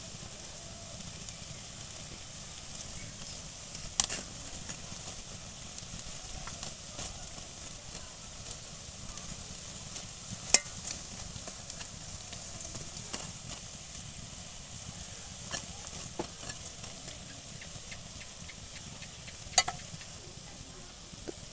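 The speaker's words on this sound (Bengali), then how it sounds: "বড়াগুলো এপিট ওপিট করে সুন্দর করে ভেজে নিতে হবে," Fritters (bora) deep frying in hot oil in a Bengali home kitchen, a steady faint sizzle running throughout with a few sharp clicks and taps of a utensil against the pan.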